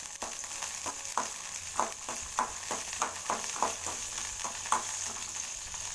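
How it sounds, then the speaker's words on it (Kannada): Ginger and green chillies fry in hot oil with a soft, constant sizzle, broken by a regular rhythm of scraping stirs in the pan, all fairly quiet and close. "ಇದು ಶುಂಠಿದು ಮತ್ತು ಹಸಿಮೆಣಸಿನ್ಕಾಯ್ದು ಎಣ್ಣೆಯಲ್ಲಿ ಬಾಡಿಸ್ಬೇಕು"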